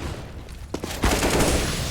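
Gunfire in a first-person shooter video game: a short burst of rapid shots followed by a louder, sharper volley, close and punchy with no voices.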